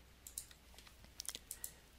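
A computer mouse clicks several times in quick, irregular succession while embedding a video in a web page editor, sharp close dry ticks over a quiet room hum, with no talking.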